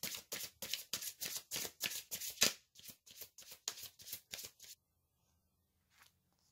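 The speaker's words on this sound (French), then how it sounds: "Je vais tirer d'autres cartes." Oracle cards shuffled by hand in a fast, steady run of crisp riffling bursts for about five seconds, close and clear, then stopping abruptly into near silence with one faint card sound after.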